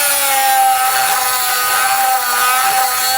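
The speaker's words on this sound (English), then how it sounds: "So I'm just going to take a Dremel tool here and just cut the end of that off." A Dremel rotary tool cuts off the end of a plastic bumper locator while a trailer hitch receiver is fitted to a 2014 Hyundai Santa Fe. It gives a steady, loud, high-pitched grinding whine that holds for about three seconds without any talk.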